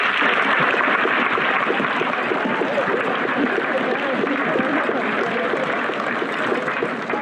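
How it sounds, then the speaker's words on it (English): An audience at a blue ribbon ceremony gives board members a sustained round of applause, steady and full throughout, with crowd voices murmuring beneath the clapping. "Let's give them a round of applause."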